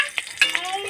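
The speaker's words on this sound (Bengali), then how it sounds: "গরম হলে সামান্য রাঁধুনি ফোড়ন আর চেরা কাঁচা লঙ্কা দিতে হবে।" Radhuni seeds and slit green chillies dropped into hot mustard oil in a kadai, a brief crackling sizzle with a few sharp spits and pops, close and moderately loud.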